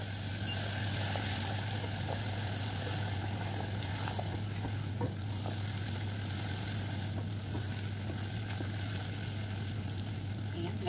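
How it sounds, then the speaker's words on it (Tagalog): Butter being stirred in a hot pan for a crepe cream filling gives a steady, close sizzle and frying hiss that holds evenly throughout, over a low constant hum. "ihalo natin yung butter"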